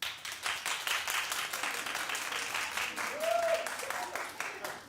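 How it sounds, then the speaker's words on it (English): A television talk-show studio audience claps in scattered, moderate applause that lasts several seconds while some voices continue underneath. "clap if you like this idea and be honest"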